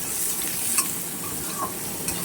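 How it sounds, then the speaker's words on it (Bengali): Two large finely chopped onions fry in hot oil in a pan, giving a steady close sizzle with a few soft stirring scrapes and no talking. "এটাকে পেঁয়াজটা ভালো করে ভেজে নেবো লাল লাল করে।"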